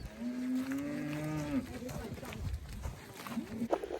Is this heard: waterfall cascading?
no